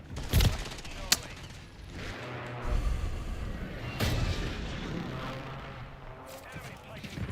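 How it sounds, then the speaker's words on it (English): Precision airstrike explosions in Call of Duty Modern Warfare III: scattered booms and sharp blasts, a couple of loud close impacts among rumbling distant fire, under intermittent in-game voice callouts. "Friendly precision airstrike inbound."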